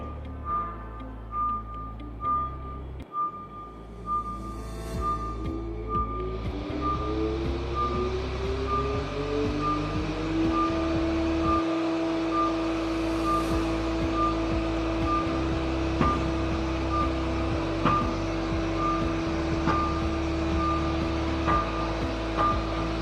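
An EECP machine cycles its leg cuffs, inflating and deflating in a steady rhythm, with a repeating electronic beep and a continuous motor hum running throughout.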